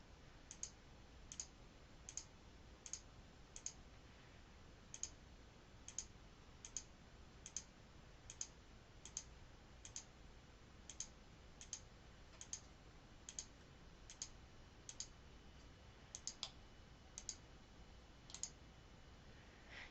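Mouse clicks in structural modeling software as points are picked at grid intersections around a slab perimeter: light, crisp clicks repeating at a steady pace of roughly two per second, close and alone over a quiet background.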